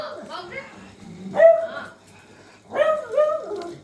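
Small indoor house dog giving a few short yips and whimpering barks in two separate bursts, close by, with quiet gaps between them.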